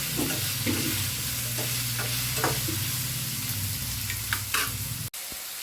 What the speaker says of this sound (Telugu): కరివేపాకు కూడా వేసుకొని ఇదంతా ఫ్రై బాగా చేసుకొని చేయొచ్చు